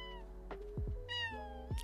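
A cat in The Sims 4 gives a few clear, close meows with rising and falling pitch, each short and separated by brief pauses.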